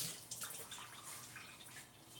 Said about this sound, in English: I just touched with my hand, so gotta wash.